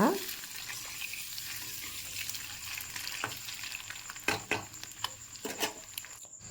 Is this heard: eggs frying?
yes